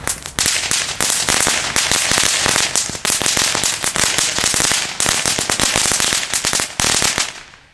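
Rapid bangs from F1-class firecrackers in a Lesli Highly Skilled assortment fire close and loud in a dense, relentless crackling volley lasting several seconds before cutting off.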